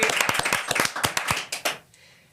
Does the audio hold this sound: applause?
yes